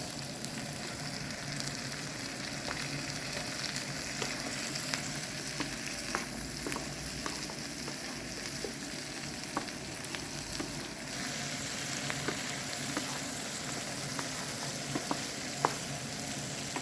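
Chopped red and green peppers, some cut into cubes and some into rings, fry in a pan with a steady broadband sizzle and occasional sharp crackles and pops. No one speaks.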